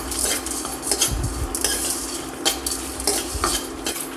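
White sesame seeds dry-roasting over a low flame are stirred steadily in a pan, a close, continuous scraping and rattling of the spoon with soft crackle beneath.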